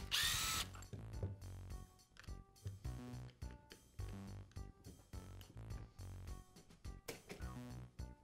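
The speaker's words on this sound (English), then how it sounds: "For the two screws where the battery attaches, you'll need to use a security Torx driver" Screws come out of a Milwaukee impact driver housing with a security Torx driver, heard as a busy run of close, sharp tool clicks and metallic clinks in quick irregular bursts.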